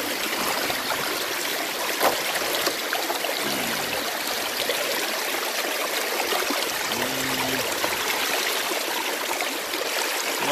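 Water running steadily through a gold prospecting sluice on the San Gabriel East Fork, a constant close rushing and trickling flow with faint wind, alone and uninterrupted.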